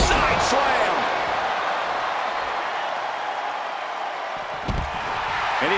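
A single heavy body-slam thud from a side slam in the WWE 2K25 wrestling video game, landing over a constant roar of the arena crowd.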